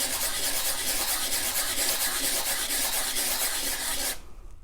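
Sandpaper rubs against a sterling silver ring band in a steady, close rasping scrub with quick back-and-forth strokes, stopping abruptly just before the end.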